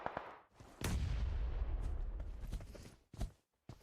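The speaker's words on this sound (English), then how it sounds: "It's going to be mollies, as well as grenades getting sent out in both directions." PUBG Mobile match with grenades and Molotovs exploding: a sharp blast opens into a long, rumbling boom that fades over two seconds, followed by a couple of quieter, shorter pops, loud and without speech.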